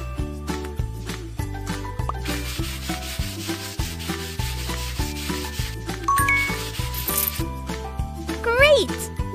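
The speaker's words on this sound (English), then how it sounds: "Wipe the dust, please." Rubbing and wiping strokes from a children's house-cleaning video game, dusting and polishing, heard as repeated scrubbing swishes over bouncy looping music, ending in a sparkly chime.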